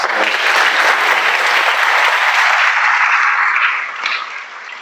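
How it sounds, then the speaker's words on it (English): A crowd applauds a choir's national anthem performance at a high school scholarship awards ceremony, dense and sustained clapping that fades slightly toward the end. "I just wanted to give a quick round of applause for that choir."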